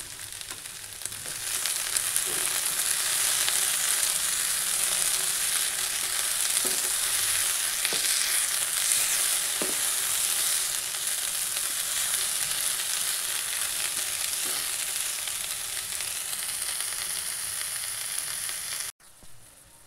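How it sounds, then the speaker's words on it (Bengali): Broccoli sautéing in a pan with cumin powder, salt and turmeric plus a splash of water, giving a steady loud sizzle and hiss with occasional stirring scrapes, running continuously before cutting off near the end. "খুব সামান্য একটু জল দিয়ে আমি এটাকে কষিয়ে নিচ্ছি।"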